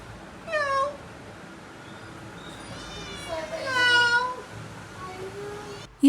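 A domestic cat at a home in Kerala meows in clear separate calls, one early and one louder drawn-out call later, with some people talking faintly in the background.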